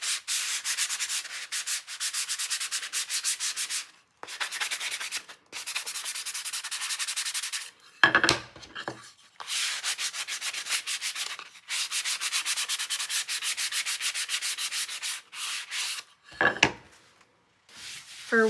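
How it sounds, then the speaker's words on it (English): Sandpaper scuffs a slippery thrift-store item before painting, a close, raspy rubbing in quick back-and-forth strokes repeated in long bursts with brief pauses and a few handling clunks between. "I'm gonna give those a quick little scuff sand because they're kind of slippery"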